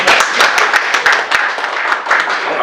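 An audience claps during a Lions Club governor's visit in Aluva, a loud, close burst of dense hand clapping that runs steadily throughout.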